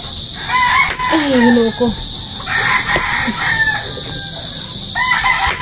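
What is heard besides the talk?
chickens, rooster crowing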